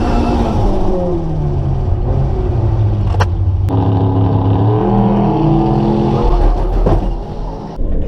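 A Zetec turbo van launches at Santa Pod, its engine a loud, close, continuous roar whose pitch shifts and climbs as it pulls away, with no voices over it.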